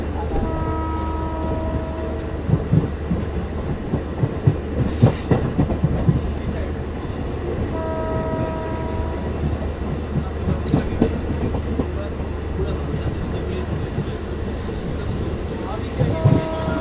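A train runs on rails in India, a continuous loud rumble with rhythmic wheel clatter and scattered clanks, heard from on board or right beside the track, with faint voices in the background.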